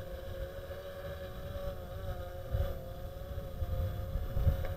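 A Wingsland Scarlet Minivet quadcopter drone flies in breezy conditions, its steady motor whine holding level under gusty low wind rumble that swells toward the end.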